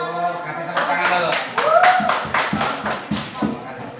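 An audience at an Islamic talk on prayer and remembrance claps in a brief burst of scattered handclaps over the room, with people talking through it.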